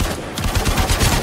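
Gunfire fills a Warframe battle in a rapid, continuous, loud stream of automatic shots with no pause and no voice over it.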